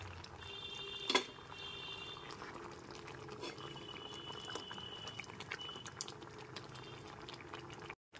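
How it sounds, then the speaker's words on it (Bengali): Fried fish heads drop into a pot of simmering moong dal, giving one soft splash over a steady, close bubbling and hiss of the cooking lentils. "এরপর এর মধ্যে ভেজে রাখা মাছের মাথাটা দিয়ে দিচ্ছি।"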